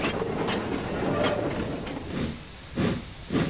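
A heavy goods train rolling along damp rails on a foggy island line, a steady hissing rumble with periodic louder chuffing bursts.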